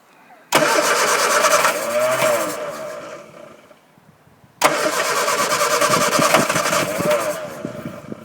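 A Hillman Avenger, unstarted for 24 years and with fuel starvation, cranks and catches twice, each start roaring up loudly then settling into a rough, uneven idle nearby.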